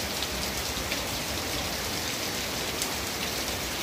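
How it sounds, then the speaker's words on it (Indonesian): Steady rain pours at night over a village, a dense, even hiss of drops hitting surfaces with no pauses, close and fairly loud throughout. "Untuk video kali ini adalah suasana hujan di malam hari di desa kami."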